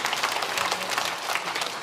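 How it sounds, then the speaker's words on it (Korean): Dense applause from a church congregation during a Sunday morning service, many hands clapping steadily and loudly without pause. "축복과 사랑과 격려의 박수 해주시면"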